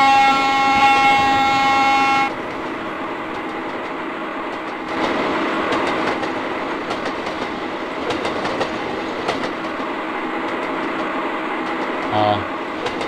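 Railway train in the game Trainz (TRS2004) running along the tracks, a steady rolling rumble with rail clatter and a sustained horn-like tone at the start, continuing as a close, even drone.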